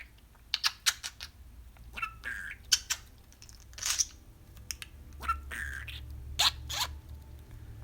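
Kiwi the budgie gives sharp, scattered squawks and chirps in quick clusters, close and moderately loud, separated by brief quiet gaps.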